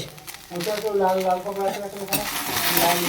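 Food in a pan with a pinch of turmeric and a little water gets stirred, a scraping, sizzling texture running continuously under a voice talking over it.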